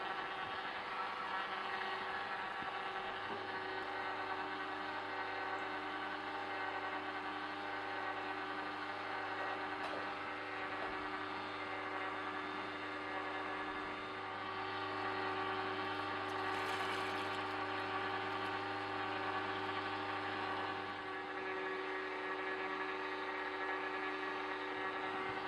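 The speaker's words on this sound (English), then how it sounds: "So I'm juicing 5 oranges here." A Sana commercial slow juicer grinds five oranges with a steady low motor hum and faint whirring, continuous and moderately quiet throughout with no talking.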